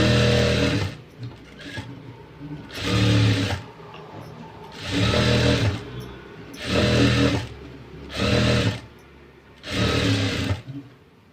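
A sewing machine stitches blouse pieces together in six loud, close bursts of rapid motor whirring, each lasting about a second, with short, quieter pauses between them.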